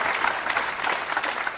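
A crowd applauds at a 9-ball pool championship match, a short burst of dense clapping from an indoor audience, loud and close, no talk over it.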